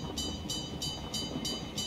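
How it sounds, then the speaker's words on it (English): A train in the online shooter PUBG rolls past with a rhythmic clickety-clack, regular metallic wheel beats about every third of a second over a low rumble, fairly quiet and with no voices. "Train's taking off."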